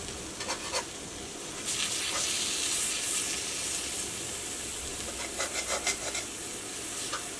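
Eggs frying in a covered pan give off a continuous bright sizzle, with scraping and tapping as the eggs are turned over, close and fairly loud, with no voices.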